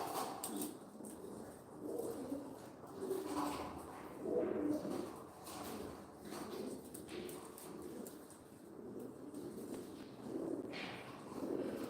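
Old Mardin pigeons coo softly and repeatedly in a loft, a low murmuring chorus of overlapping calls with faint rustling, fairly close and steady throughout.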